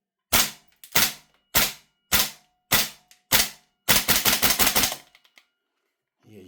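A VFC Umarex HK G3 gas blowback airsoft rifle fires six evenly spaced loud single shots, then a quick rapid burst of about eight shots that trails off into silence.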